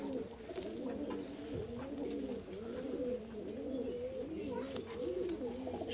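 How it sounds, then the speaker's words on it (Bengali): A pair of Shiyalkuti pigeons gives a steady run of soft, throaty coos, repeating in close rhythmic phrases and heard alone. "আমি এখানে একজোড়া শিয়ালকুটি কবুতর দেখাচ্ছি"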